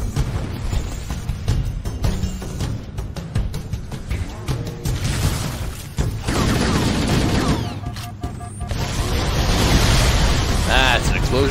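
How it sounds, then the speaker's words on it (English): An explosion in Halo: Combat Evolved, in a level called The Maw, booms and roars among dense gunfire and game noise, a loud, sustained rumble filling the scene. "That's an explosion."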